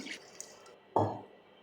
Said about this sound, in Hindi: तो अब मैं इसमें ऐड कर दूँगी 2 से 3 कप के करीब पानी,